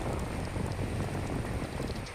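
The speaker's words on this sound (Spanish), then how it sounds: "y empezó a llover." Rain falls during a storm as a loud, broad, roaring wash, steady and close, with no voices.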